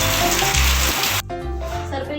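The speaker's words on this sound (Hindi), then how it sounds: "दिखाती हूँ आपको कि बारिश आ रही है।" Rain pours down steadily with a broad hissing wash that cuts off abruptly partway, leaving faint dripping and background hum, while someone talks over it.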